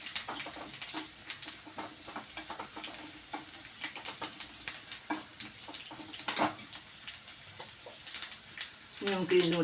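Cashew nuts frying in a pan with stirring, a steady sizzle broken by frequent scraping clicks and taps of a utensil against the metal.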